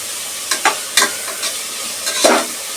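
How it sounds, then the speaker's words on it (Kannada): Vegetables being sautéed in oil in a pan for a cheesy veggie pasta, with a soft sizzle broken by several sharp scraping stirs from a utensil, close and clear with no talk. "ಸೊ ಇದನ್ನು ಆಯಿಲ್ನಲ್ಲಿ ಚೆನ್ನಾಗಿ ಬಾಡಿಸ್ಕೊಳ್ಬೇಕು"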